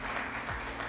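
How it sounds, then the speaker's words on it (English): Applause sound effect in a Ren'Py visual novel game, a brief, faint burst of crowd clapping under a second long. "Applause."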